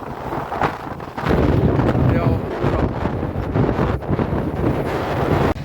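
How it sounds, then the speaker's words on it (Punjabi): Strong wind buffets the microphone in gusty, roaring rushes that swell and fade, loud and close, with brief speech at the start. "ਹਵਾਈ ਬਹੁਤ ਚੱਲ ਰਹੀ ਹੈ"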